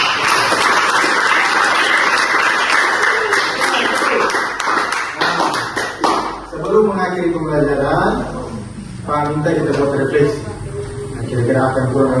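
A classroom of students claps together at the end of a lesson, loud and sustained for several seconds, then dies away as a teacher's voice takes over.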